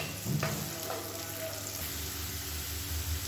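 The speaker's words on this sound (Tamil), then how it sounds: "இப்போ பார்த்தீங்கன்னா பாவக்காய் வதங்கிட்டு இருக்கு." Bitter gourd pieces frying in a pan give a close, steady sizzle, with a few clatters of stirring near the start and no speech.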